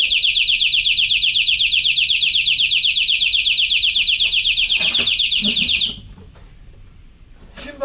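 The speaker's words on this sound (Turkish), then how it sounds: "Alarmımızı kapatalım." A loud, rapidly pulsing homemade electronic alarm beeps continuously for about six seconds, then stops abruptly, followed by faint handling noises and a click.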